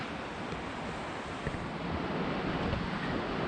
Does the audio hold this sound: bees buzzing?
no